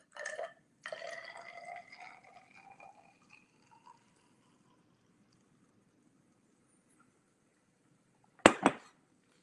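Syrah and Cabernet Franc red wine poured into a measuring vessel for a blend, two short, close splashing pours followed by dripping, and later a sharp clink of glass after a silence.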